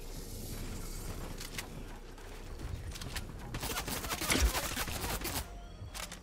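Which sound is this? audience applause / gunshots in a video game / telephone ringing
gunshots in a video game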